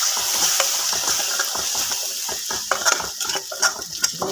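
Onion paste frying for an Assamese tangy fish curry: a steady, close sizzle and hiss from the hot pan, punctuated by irregular clinks and scrapes of a spoon stirring, growing busier toward the end.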